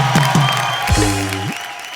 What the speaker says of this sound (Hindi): तो इस बात के लिए खड़े होके तालियां।